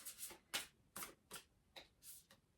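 Soft, quiet riffling and flicking of cards in uneven bursts, close by, with brief pauses between shuffles and no voices.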